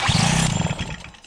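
A Motobecane 88 moped engine, started without the choke, fires into a loud, buzzy two-stroke rasp close by, holding steady for about a second before dropping off.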